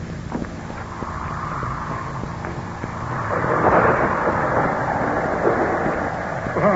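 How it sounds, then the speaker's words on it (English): A thunderstorm in an old Frankenstein film scene brings low rumbling thunder that builds and grows louder midway, with a wind-like wash and no voices. "The storm is increasing again."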